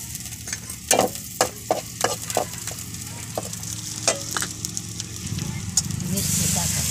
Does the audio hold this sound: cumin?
yes